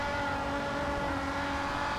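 A car engine strains at high revs in the racing game GRID 2, a steady, moderately loud whining drone held without letup.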